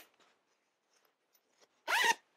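A zipper on a home-sewn bag is pulled open in one quick, close rasp lasting about a quarter second, following a few faint handling taps in otherwise quiet surroundings.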